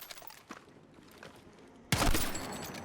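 Video game gunfire: faint taps and light clicks early on, then a sudden loud, dense burst of shots that rings on to the end.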